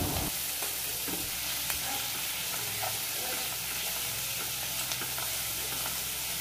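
Salted corn kernels being stirred and fried in a pan give a steady, dense sizzle with soft scraping from the stirring, continuous and close with no voices.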